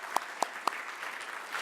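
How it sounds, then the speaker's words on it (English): Applause at an award ceremony for seven winners, three sharp near claps in a steady rhythm standing out over a softer, more distant wash of scattered clapping from the hall, no speech. "A warm round of applause to the 7 winners"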